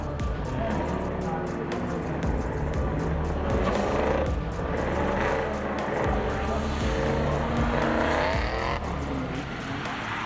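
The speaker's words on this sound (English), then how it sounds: "There's Jason getting some heat into his tires before this final run." A race car in a qualifying session warming its tires before a final run: a continuous engine roar that rises and falls with revving and weaving, heard under a commentator's steady talk.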